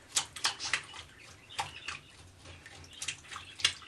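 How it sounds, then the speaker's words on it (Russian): A pike is scaled with a fish scaler in a sink of water. Quiet, irregular scraping strokes mix with small splashes and drips, close by and without voices. "Берем чистку для рыбы и начинаем чистить."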